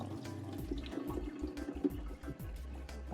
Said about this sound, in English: when you wash the rice